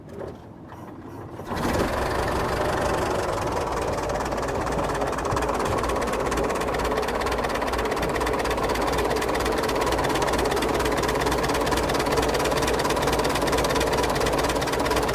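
After a brief quiet start, the engine of a 1915 Dodge Brothers touring car catches and settles into a steady, rapid, ticking idle. It runs close and continuous to the end.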